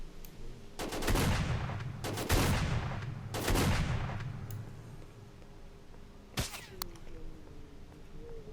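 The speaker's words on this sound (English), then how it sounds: "Is that a zombie sniper?" Three heavy, echoing rifle shots from a zombie sniper in S.T.A.L.K.E.R. crack out about a second apart, followed by a quieter lull and one more distant shot.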